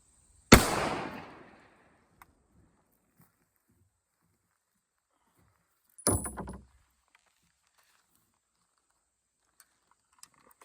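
Two sharp rifle shots from a Remington 742 in .30-06 crack outdoors several seconds apart, the first louder with a decaying tail, the second shorter, with only faint ticks in between and the distant metal target's ring barely standing out.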